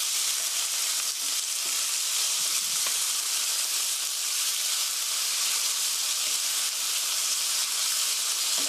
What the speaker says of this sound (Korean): 하얗게 될 때까지 천천히 뒤집으면서 볶아주세요.